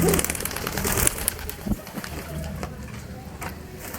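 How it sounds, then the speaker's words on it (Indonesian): An adult male pigeon coos in low, soft calls over a steady hiss of outdoor noise, with a few sharp clicks and no talking. "ini yang merpati dewasa saya ya, yang warna megan ya, yang pejantan"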